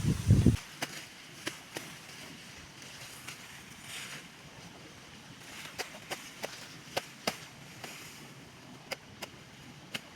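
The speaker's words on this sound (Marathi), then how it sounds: "हत्ती घास तेवढा काढून घेतो" A sickle chopping elephant grass in a farm field: sharp, crisp strikes come at irregular intervals, some in quick pairs, fairly close over a quiet outdoor background.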